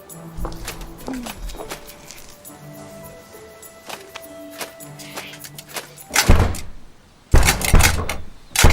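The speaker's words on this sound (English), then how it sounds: "Oh, stupid door. Why won't it open? I think it's locked on account of the big lock." A locked door being tried in a video game: several rattling thumps and clunks against the lock, loud and close, building to heavy bangs near the end, with no talking.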